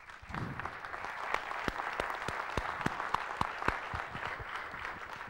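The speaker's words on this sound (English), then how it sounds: "I'd like to ask for a round of applause for their efforts." Scattered clapping from a small audience at a trade-show pinball demonstration, individual claps distinct and irregular, moderately loud and fairly close.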